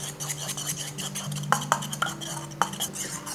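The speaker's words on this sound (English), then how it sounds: "then oyster sauce, and mirin, like that. Now we mix all together." A sauce of oyster sauce and mirin being mixed for okonomiyaki, with a utensil clinking and scraping against a bowl in several sharp taps over a low background hum.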